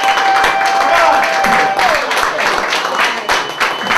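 A comedy club audience claps steadily at a live stand-up show, a dense, loud patter of many hands with a faint tone under it, fading slightly toward the end.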